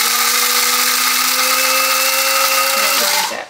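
An electric coffee grinder whirs loudly and steadily as it grinds coffee beans, a close continuous motor whine that drops in pitch and winds down at the end.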